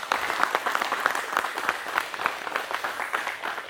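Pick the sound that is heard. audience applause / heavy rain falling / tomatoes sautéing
audience applause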